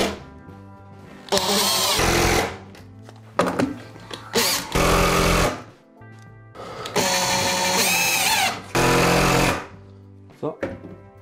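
Power drill driving screws into Douglas fir terrace decking boards, several loud whirring bursts of a few seconds each separated by short pauses, close by.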